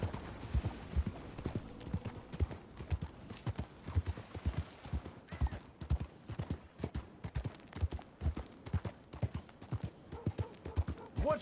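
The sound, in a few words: horse hooves clip-clopping in video game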